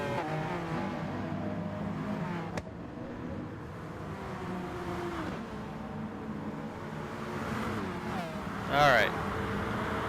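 A race car in a racing video game drones steadily, its engine pitch rising and falling as it works through gears and corners, with a brief high squeal near the end under a continuous backdrop.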